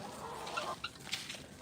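Chickens cluck faintly nearby in a coop area at bedtime, a few soft scattered clucks over low background noise.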